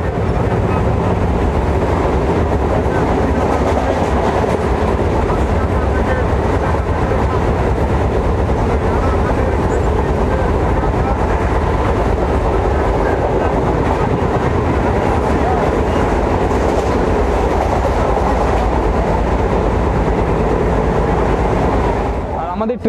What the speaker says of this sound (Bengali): আমাদের ট্রেন এখন ঢুকছে বেলঘরিয়া স্টেশনে।